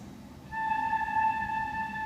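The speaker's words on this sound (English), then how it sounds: "then they take their hands off and now they make a higher pitch" A student's flute headpiece blown with the end left open, producing a clear, steady higher-pitched tone that begins about half a second in and sustains alone in a quiet room.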